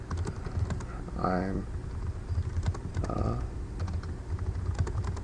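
Rapid clicking keystrokes on a computer keyboard, typing an email, go on steadily and up close, while a person speaks briefly over them.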